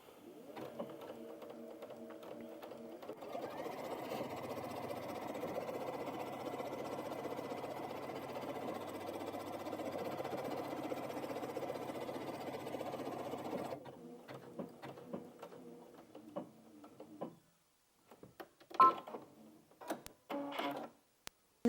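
A Brother Innov-is VQ2 sewing machine stitches a buttonhole with a continuous, fairly quiet mechanical whirring that lasts about ten seconds, then stops, followed by a few soft clicks and handling noises.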